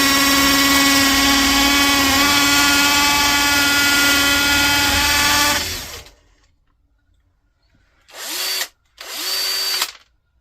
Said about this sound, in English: Sometimes you just have to drill it out.